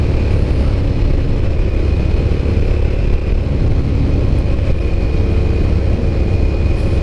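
A Yamaha FJR motorcycle runs nearby with a loud, sustained engine drone mixed with road and wind rush, holding steady without a distinct pass-by swell.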